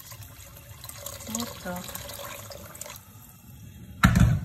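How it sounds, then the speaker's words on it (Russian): Hot water trickles and splashes into a pot of meat under a brief spoken remark, ending with a louder rushing pour. "Добавляем воды горячей, чтобы у нас закрыло мясо"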